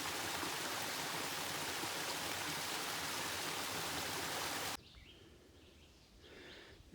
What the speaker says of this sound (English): It's noted on our map just as a cascade.